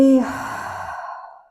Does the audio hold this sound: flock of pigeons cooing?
no